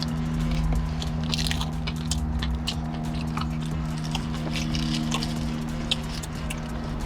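Someone bites into and chews a grilled taco with a crunchy tortilla inside, with repeated soft crunches and mouth noises close up over a steady low restaurant hum, and no talking.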